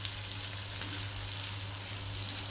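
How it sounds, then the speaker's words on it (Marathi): Onion frying in a pan for a black-masala chicken curry, a steady soft sizzle with a faint low hum underneath, no voices. "आता आपण कांदा भाजायला टाकला तर चांगला कांदा काळा करणार आहे"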